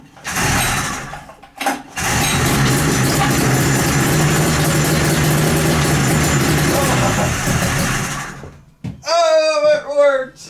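A 95HP two-stroke triple engine on a yard kart, once fitted to a snowmobile, fires up and runs loud and steady for several seconds near the listener, then cuts out as a voice speaks excitedly.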